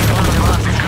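Gunfire in the video game Shadow of the Tomb Raider, a loud burst of rapid shots and booming blasts crowding a brief moment, with a voice mixed in.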